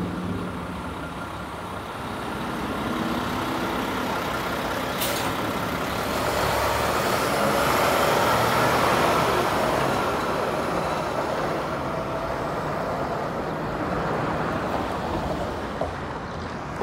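Light weekday-afternoon traffic on Queen St E in Toronto's Leslieville, a continuous broadband rumble of passing vehicles that swells toward the middle and stays steady and fairly close.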